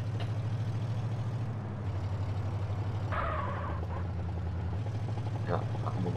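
A low video game car engine in SA-MP rumbles steadily with a rhythmic throbbing, like a vehicle idling or driving, while voices talk over it.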